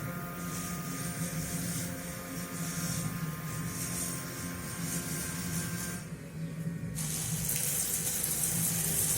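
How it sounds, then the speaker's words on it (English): A diaphragm pump in an automated CNC-based, 3D-printed farming system pours water onto a plant, giving a steady splashing stream over a mechanical hum, which changes tone near the end. "we are pouring exactly 500 ml of water for each plant"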